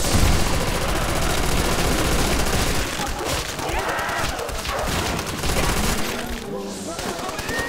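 Rapid, loud gunfire fills a Nazi Zombies match, with dense overlapping bursts and shots that run almost continuously and ease slightly toward the end.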